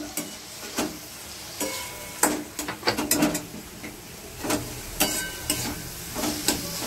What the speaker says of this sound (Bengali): মশলাটা ভালো করে কষিয়ে নিই। ভালো করে কষতে হবে।